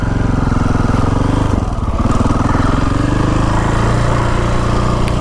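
A KTM 525 dual sport motorcycle's single-cylinder engine runs close and loud with a steady pulsing thump, dipping briefly before carrying on.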